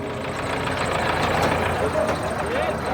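A tractor engine runs steadily at a village kupkari horse game in Urgut's Bekravod neighbourhood, a continuous low rumble that stays fairly loud throughout, with voices and crowd noise over it.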